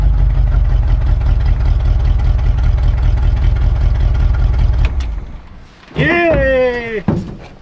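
An old GMC truck engine runs steadily after a carburetor repair, a loud low rumble filling most of the clip before cutting out, followed by a brief whistling, tonal sound near the end.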